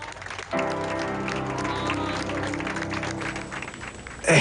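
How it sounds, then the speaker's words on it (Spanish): Applause from a group as a patient who beat COVID leaves a clinic, steady clapping that starts abruptly and carries on at moderate loudness with some voices mixed in. "Entre los aplausos, al salir de la clínica, ella recibió el mejor regalo"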